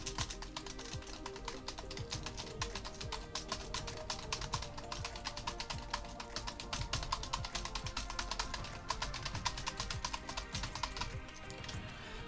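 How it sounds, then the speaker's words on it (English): Steady, rapid typing on a computer keyboard, with close, crisp key clicks in a continuous run lasting about twelve seconds and no voices over it. "let's get back on over here and start typing again"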